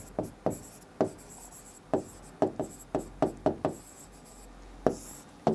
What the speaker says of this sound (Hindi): मैं यहां लिख देता हूं।